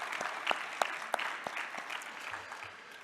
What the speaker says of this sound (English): Let's give him an applause too.